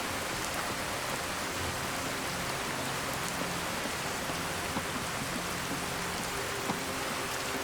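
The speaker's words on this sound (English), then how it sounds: "Walking in the rain." Steady rain falls during a walk in Skyrim, a dense, even hiss of drops on the ground that continues unbroken at moderate volume, with no voices.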